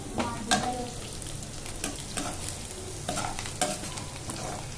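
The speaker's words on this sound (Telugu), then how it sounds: "ఇప్పుడు ఇందులో కట్ చేసి పెట్టుకున్న పచ్చిమిర్చి వేసుకొని బాగా ఫ్రై చేసుకోవాలి." Chopped green chillies fry in hot oil in a pan, a steady close sizzle broken by several sharp scraping stirs of a spoon against the pan.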